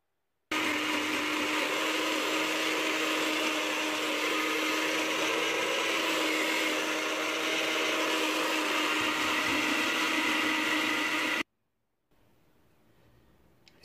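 A kitchen blender whirs steadily for about eleven seconds while blending pesto with oil, a loud, constant motor whine that stops abruptly, leaving faint room noise.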